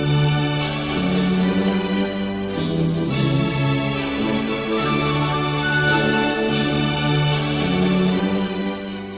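The heavy metal song opens with a dense, sustained wall of distorted guitars and layered tones, with swelling bursts of cymbals, loud and continuous throughout.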